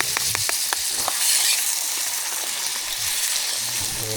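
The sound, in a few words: frying dried fish and squid in a pan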